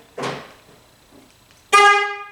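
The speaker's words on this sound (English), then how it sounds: "If I honk the horn, it's got the right sound." A FIAMM Freeway Blaster car horn honks twice, close and loud: a short rough blast, a pause, then a longer, brighter honk that fades out.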